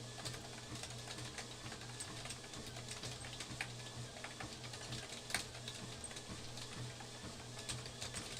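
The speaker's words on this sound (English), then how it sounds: "Sorry, I'm typing out this." Keyboard keys clatter in a steady run of quick, light clicks over a constant low electrical hum, fairly faint and close, with no one talking.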